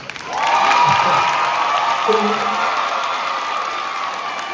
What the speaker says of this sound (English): you can clap it up for getting these beautiful young people across the finish line